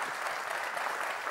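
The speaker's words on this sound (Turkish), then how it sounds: "Seyirciye de bir alkış istiyorum." Steady, full applause from a television quiz show studio audience, a continuous even roar of many hands clapping with no voices.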